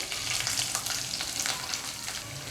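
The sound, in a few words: sautéing ginger, green chili, curry leaves and onion in pan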